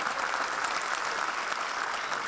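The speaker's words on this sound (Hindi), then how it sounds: "एक बार दिल से ताली बजा दीजिए" An audience at a Dubai mushaira and kavi sammelan for Urdu poetry claps together, a steady, full round of applause heard from within the hall.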